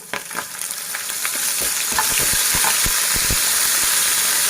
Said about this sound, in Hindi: उसके बाद मैं पहले जीरा डालूंगी फ्राई करने के लिए।